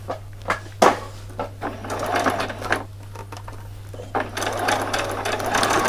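A sewing machine stitches a Christmas party dress in short start-stop bursts, then longer steady runs, close and clear with a low constant hum beneath; no talk over it.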